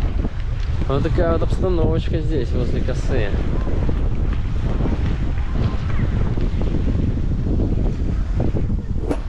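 Strong wind buffets the microphone in a constant roar with stormy sea surf churning beneath at a Novorossiysk beach, while a person speaks briefly over the gusts.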